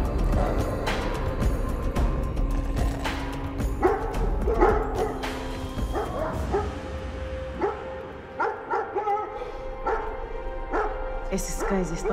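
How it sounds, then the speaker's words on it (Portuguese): Several dogs bark, yip and whimper in a rapid, overlapping burst up close in a Portuguese-dubbed biblical TV drama scene, with people speaking over and between the barks. "Esses cães estão mesmo pedindo para morrer."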